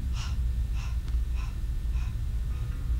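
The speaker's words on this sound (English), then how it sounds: "exhale, deepening through the abdominals, exhaling through the mouth 5 times" Five short, sharp exhalations through the mouth during a Pilates breathing exercise, evenly spaced puffs of breath over a low background hum, close to the microphone.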